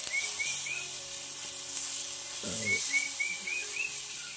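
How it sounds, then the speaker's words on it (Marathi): Food fries in oil on a cast-iron griddle with a steady, close sizzling hiss, and birds chirp faintly in the distance. "असं तेल सोडायचं आणि आता खरपूस भाजून घ्यायचं"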